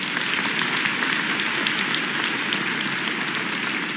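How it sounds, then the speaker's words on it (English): A banquet-hall audience at an American Chamber of Commerce year-end gala in Taiwan claps for the event staff, a dense, sustained wash of applause from many hands, steady and unbroken, with no voices on top. "Let's give a big round of applause to our incredible staff for making this evening possible."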